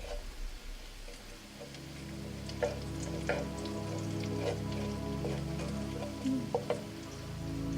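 Garlic and onions sizzle and fry in a pan for pork igado liver paste, a steady close crackle with scattered pops and occasional stirring scrapes.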